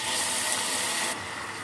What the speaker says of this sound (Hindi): अभी हम गुड़ वाला पानी ऐड कर देते हैं